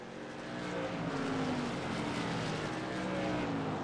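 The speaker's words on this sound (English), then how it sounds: "Engine's still going though, so we're still going." An SK modified race car engine in the iRacing sim roars steadily at South Boston, a loud, sustained drone with rising pitch traces as the damaged car keeps lapping.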